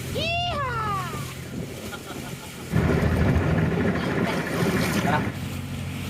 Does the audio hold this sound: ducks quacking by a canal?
no